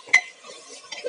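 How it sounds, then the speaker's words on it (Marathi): Village-style chicken is stirred in a pot with a utensil, giving a sharp metallic clink followed by soft scraping and shuffling. A second scrape comes near the end, close and fairly quiet, with no talk. "चिकन मिक्स करून घेतले."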